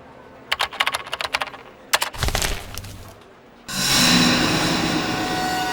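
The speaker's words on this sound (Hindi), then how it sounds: "फ्रेडी, जरा इसे टाइप करके देखो, AIDA, आइडा।" Keys clatter in quick bursts as someone types a password on a computer keyboard, followed by a short pause and then a loud, steady rushing noise.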